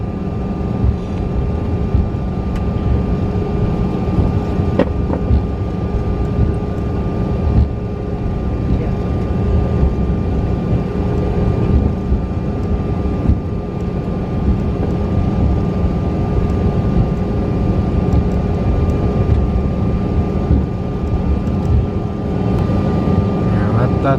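A United Express CRJ-200LR regional jet taxis a long route to the ramp at Chicago O'Hare, heard from inside the cabin as a steady, loud engine hum and whine that continues unbroken throughout.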